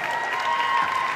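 Audience applause at a university graduation ceremony, a steady wash of many hands clapping throughout in a large hall, fairly loud and continuous without pauses.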